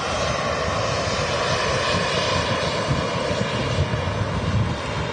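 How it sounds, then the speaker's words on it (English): A KLM Embraer 190 jet passes overhead near Manchester Airport, giving a steady, broad engine roar that stays loud and even throughout, with slight wind buffeting on the microphone. "KLM Embraer by the looks of it."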